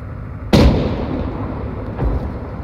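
High-explosive rounds fired in the Arma 3 military game: one sharp, loud blast with a rolling tail, then a fainter second report about a second and a half later, with no talk.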